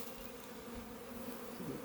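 A honeybee swarm buzzes inside a capture box near a tree, a dense, continuous low drone of many wings, faint and steady throughout the short stretch.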